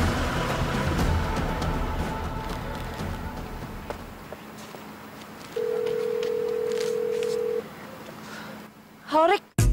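A telephone being dialed in an Indonesian drama scene: a quick series of keypad tones, then a steady held tone, heard faintly under room noise with voices around.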